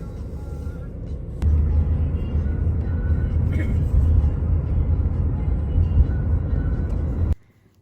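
A car drives home on the road after leaving a venue: a steady low engine and road rumble fills the interior, continuous and fairly loud for several seconds before cutting off abruptly at the end.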